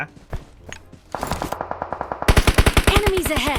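Rapid bursts of automatic gunfire with echoing single shots, growing louder and denser into sustained rattling volleys in a PUBG Mobile firefight.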